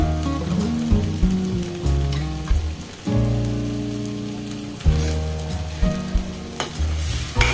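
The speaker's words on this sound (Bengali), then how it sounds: "এবার এখানে আরেকটু এটা কষিয়ে নেব।" Ghugni spices sautéing and being stirred in a hot pan for a street-style Bengali ghugni with dry mango powder, a steady close sizzle with repeated scraping stir strokes, no talk.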